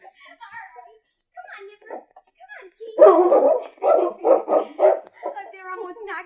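A dog barks in several loud, close bursts while it plays with a child, the yaps clustered in the middle of the passage between people talking before and after.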